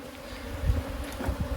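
Flighty honeybees drone and buzz close by during a hive inspection in the building-up season, a dense steady hum with individual bees zipping past the microphone in brief louder swells, and no talking.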